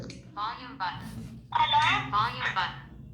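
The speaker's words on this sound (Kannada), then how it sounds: "ನೋಡಿ, ಇದು ವಾಚಲ್ಲಿ ರಿಂಗ್ ಆಗ್ತಾ ಇರೋದು" A Samsung Galaxy smartwatch rings with an incoming call, playing a bright melodic ringtone in short repeating bursts, close and clear over a quiet background.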